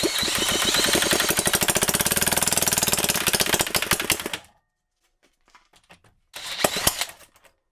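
A 3D printed gas engine with its timing set 15 degrees before top dead center runs with a loud, rapid hammering rattle, then cuts out abruptly as the flywheel bolt snaps, followed by scattered clinks and a brief final burst of clatter.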